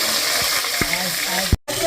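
Pieces of rohu fish frying in a pan for a mustard fish curry give a steady close sizzle, with a few stir or clatter bumps and a brief dropout near the end.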